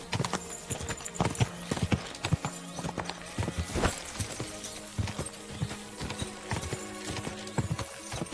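Horse hooves clip-clop in a steady walking rhythm in Kingdom Come: Deliverance 2, with a brief whinny partway through. The sound is fairly quiet and close, with no talk over it.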